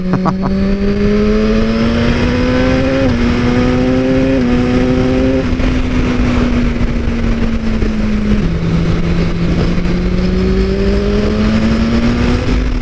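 A BMW S1000RR sport motorcycle accelerates hard into a power wheelie, its engine screaming up through the gears in rising sweeps with brief dips at each shift, loud and close throughout.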